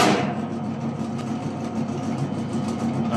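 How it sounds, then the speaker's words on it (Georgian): A three-phase electric motor wired to run on single-phase power keeps spinning with a steady, close hum and rattling mechanical chatter, and there is no talk over it. "გაეშვა ძრავი, მუშაობს, ბრუნავს."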